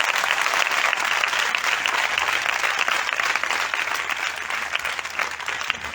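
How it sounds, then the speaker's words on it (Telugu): Loud, sustained applause fills a church congregation in Guntur during a pastor's sermon, a thick continuous wash of many hands clapping at close range for six seconds. "చప్పట్లు కొట్టండి బిగ్గరగా."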